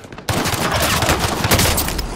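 Video game gunfire erupts abruptly and keeps going: a loud, dense rattle of rapid automatic shots fills the short stretch without pause.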